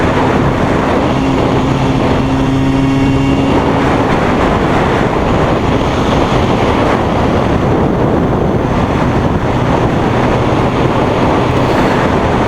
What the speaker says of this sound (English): This liter engine is quite impressive.